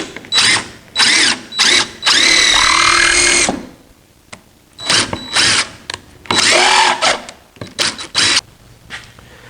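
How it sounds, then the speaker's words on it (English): A power drill drives a countersunk screw into a wooden table saw sled, in several loud bursts of whirring with pauses between them, the longest run in the middle as the screw seats. "I make sure I countersink this screw"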